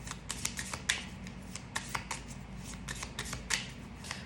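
Tarot cards are handled and shuffled at close range, making quick papery flicks and soft riffles that repeat at irregular intervals over a low, steady room hum, with no talk.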